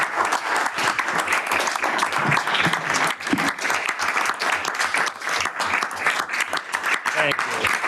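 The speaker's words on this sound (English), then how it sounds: "if you can all give the chair a round of applause" A council meeting crowd applauds the chair in a sustained round of clapping, dense and steady with no break throughout.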